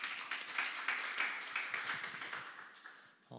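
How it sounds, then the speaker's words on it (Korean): A lecture audience claps steadily together, a soft even patter of applause that thins out and fades near the end. "박수 한번 주십시오, 여러분."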